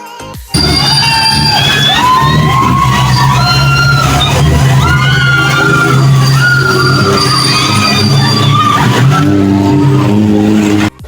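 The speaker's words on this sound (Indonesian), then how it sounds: "Sebentar lagi bakal kita lihat nih bagaimana keseruan naik wahana jeep ini." Jeep ride at Lembah Pendawa in Pandaan, Pasuruan, East Java: a continuous loud engine drone with revving and tyre noise runs throughout, with crowd-like chatter and cheering mixed in.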